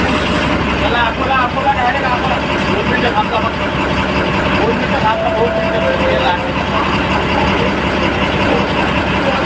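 A bus engine runs steadily throughout, a constant low rumble under a busy background of voices and chatter from passengers boarding.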